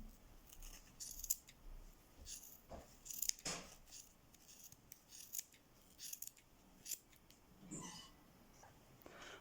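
Scissors snipping through yarn while making a knitted pompom for a hat, a few quiet close cuts and rustles against a faint, soft background.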